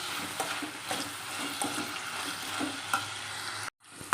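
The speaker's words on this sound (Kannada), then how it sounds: "ಇದು ಚೆನ್ನಾಗಿ ಫ್ರೈ ಆಗಲಿ" Onions and salt frying in a pan for onion rice give a steady, close sizzle with occasional stirring scrapes, then a brief drop to near silence before the frying resumes at the end.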